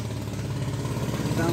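A running engine on a fishing boat with twin engines, only one of them working, drones steadily with a low pulsing throb throughout the short stretch, fairly close and constant.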